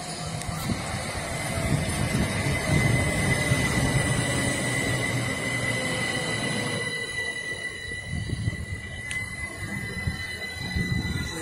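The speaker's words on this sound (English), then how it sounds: "This train that's come past." A train rumbles past at Southwick steadily with a high metallic wheel squeal ringing above the rolling noise, fairly close, continuous for the whole stretch.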